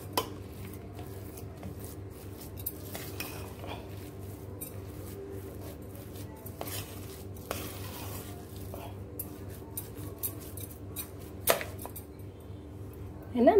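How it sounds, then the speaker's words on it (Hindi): A spoon mashes soft cream (malai) in a metal pot, giving faint, irregular scraping and squishing taps over steady background hum, with a few sharper clinks along the way. "थोड़ा सा इसको हम मैश करेंगे स्पून से"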